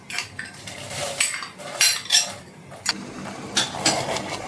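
Chopped vegetables, carrots and onion among them, tumble into a pot of Romanian chicken ciorba with clattering metal knocks and scrapes of utensils against the pot, several sharp hits over a few seconds, close and fairly loud.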